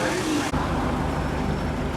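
A classic blue Ford Fairlane among old cars in Havana at sunset, a steady low engine rumble with road noise, a brief cut early on, then continuing idle-like hum throughout.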